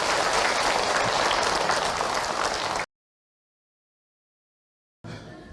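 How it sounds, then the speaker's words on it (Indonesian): An audience at an Islamic religious talk applauds a woman who asked a question, a steady, full burst of clapping for about three seconds, then a gap and a brief return of applause. "Tepuk tangan buat teteh yang bertanya."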